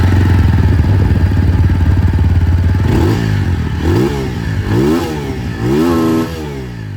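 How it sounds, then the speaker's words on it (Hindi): A TVS Apache RTR 200 4V motorcycle with a metallic dual-barrel exhaust idles loudly up close, then gets blipped several times in quick revs that rise and fall, alone without talk. "एग्जॉस्ट साउंड जो है वो भी मैं आप लोगों को सुना दूं"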